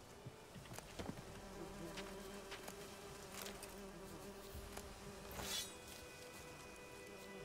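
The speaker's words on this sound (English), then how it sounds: "There's a beehive." Insect buzzing from a beehive in The Witcher 3: Wild Hunt, a steady droning hum lasting throughout with a few brief louder swells, heard alone without talk.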